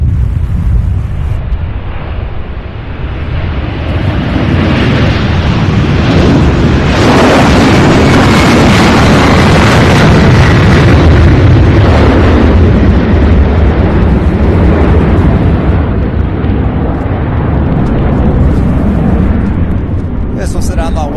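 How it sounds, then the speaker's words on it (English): An MD-11 jet rolls for takeoff at Louisville International Airport, its engines giving a loud, sustained roar that builds and stays heavy for the whole stretch, with wind buffeting the microphone. "the MD-11 getting a move on"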